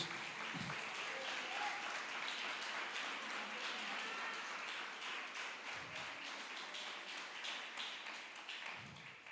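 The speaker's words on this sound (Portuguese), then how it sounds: "Você pode louvar ao Senhor com as tuas palmas." A church congregation claps in praise during a service, a continuous dense crackle of many hands that stays fairly faint and distant throughout.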